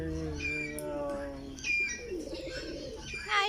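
Philippine pigeons coo in low, repeated, drawn-out tones close by, followed by lighter chirps and bird calls in the background.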